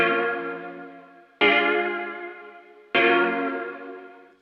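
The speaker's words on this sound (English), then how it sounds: "it's just adding a little bit of wow and movement and wear and tear" A sampled tone treated with tape wow and wear, sounding as three sustained, harmonically rich hits that each start sharply and slowly decay, with a wavering, slightly distorted, chorus-like shimmer.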